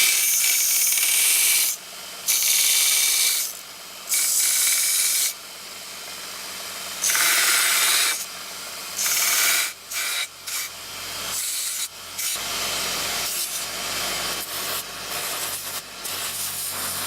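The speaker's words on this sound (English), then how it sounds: "I'm just going to continue sanding round to get this nice." Hand sanding of a bolted-together bushcraft knife handle: rhythmic, raspy abrasive strokes in bursts of one to two seconds, separated by short pauses and then quicker, choppier passes, close and alone without talk.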